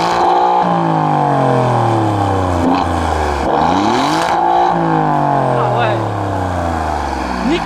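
A stationary sports car, a performance rival to the C63 AMG and M3, revs hard several times, its engine note climbing and falling in loud, close sweeps with a throaty exhaust tone.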